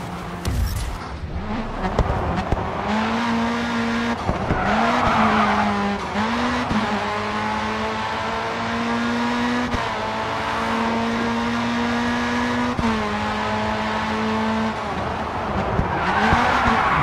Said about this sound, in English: Look, it slams on the brakes.